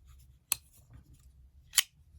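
A Spyderco Tenacious Lightweight folding knife with FRN handles is flicked open twice, each a sharp, loud thwack standing alone against quiet background, roughly a second apart.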